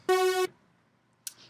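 A short, bright buzzy sawtooth-wave synthesizer tone with rich harmonics sounds once for about half a second, followed by a faint click.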